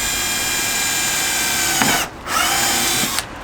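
A power drill bores through the front bumper of a Mk1 Audi TT to fit a splitter, a loud steady whine broken by two short pauses before drilling resumes, with no speech.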